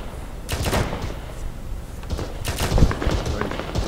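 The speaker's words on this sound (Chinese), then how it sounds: "343，我用榴弹轰应该轰得到" Grenade launcher fire in the video game Arma 3, several sharp booming shots with thudding impacts spread over a few seconds, loud and close.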